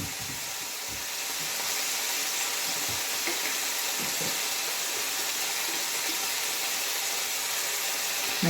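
Turmeric, chili and coriander powders sautéing in oil in a home kitchen pan, giving a continuous close sizzle with occasional soft scrapes and stirring bumps, no talking.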